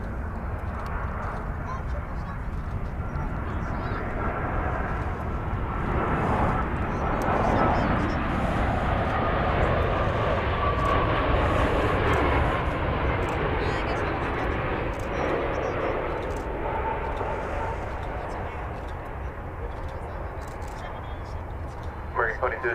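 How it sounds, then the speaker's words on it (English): American Airlines Boeing 787-8 Dreamliner landing at DFW Airport, a broad, steady jet roar that swells and holds for many seconds before easing slightly, with voices talking underneath. "American Flight 49. This is a 787-8 Dreamliner coming in from Paris, France, Charles de Gaulle Airport."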